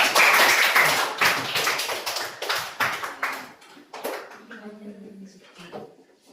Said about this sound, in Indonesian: Tepuk tangan dulu untuk Sahila.